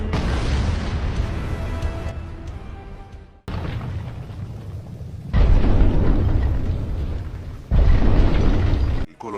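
A huge explosion marks the appearance of the Colossal Titan in the anime, a loud rumbling blast that roars on with several abrupt cuts and renewed booming surges.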